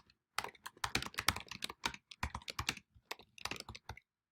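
Rapid keystrokes on a computer keyboard in quick bursts with short pauses, close and clear, no voices.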